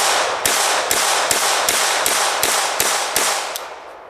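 Gun being fired in rapid succession, about nine sharp loud reports at a steady half-second rhythm over a constant loud mechanical roar, close and harsh.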